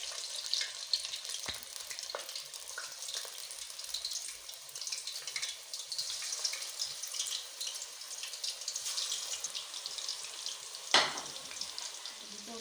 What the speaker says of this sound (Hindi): तो अब हम कोफ्तों को फ्राई करते हैं।